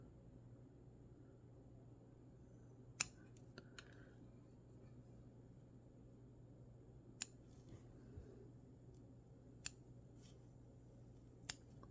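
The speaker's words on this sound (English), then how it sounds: "grab the tips of this, line them up, snip those off a little" Scissors snip the tips of tying material while a double wing stonefly fly is tied, giving a handful of crisp, isolated clicks spaced several seconds apart over a very quiet background.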